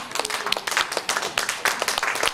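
An audience at an opening ceremony claps in steady applause, a dense run of close hand claps that swells and fades in small waves over a couple of seconds.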